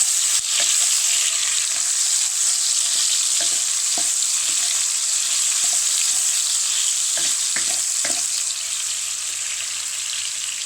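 Tomatoes sizzle loudly in a pan while being cooked for white sauce pasta, a strong continuous frying hiss close up with sporadic spoon taps and stirring scrapes, no speech.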